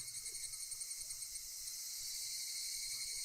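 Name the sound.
Japanese cicada chirping, played recording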